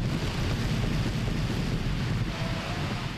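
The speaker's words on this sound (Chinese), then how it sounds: "今朝早大雨持续，" Heavy morning rain and gusting wind outdoors during a Hong Kong yellow rainstorm warning, heard as a dense, steady roaring hiss that stays loud and unbroken throughout.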